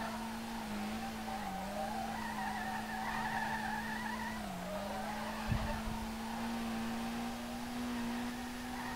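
Steady engine drone and a sustained, wavering tire squeal from a car drifting in the racing game SLRR, with a brief thump midway as the drift continues, loud and alone without talk.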